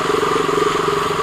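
Close and loud, a KTM bike halted on a flood-affected road ticks over at idle with a constant throbbing engine note, no speech.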